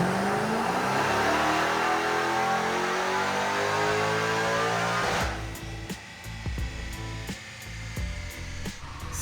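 A Hellcat V8 swapped into a Nissan 350Z roars loud and sustained through a dyno pull at full throttle, then abruptly cuts to a lower rumbling idle broken by sharp pops and crackles.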